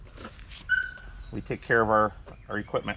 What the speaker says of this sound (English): You can probably hear the dogs whining in the background.